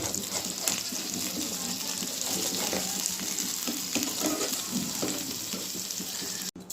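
Soft, continuous sizzling of fish frying in hot oil, with occasional light clinks and stirring nearby.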